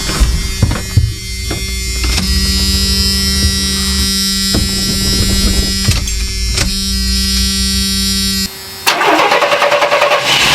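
An old barn-find van's engine cranks with a whining starter, catches, and runs with a rough, steady hum, loud and close, before a brief drop and a noisy rev at the end; no talking.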